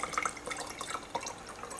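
Garlic oil is poured through a strainer into a container, giving soft, close trickling and dripping sounds for a couple of seconds.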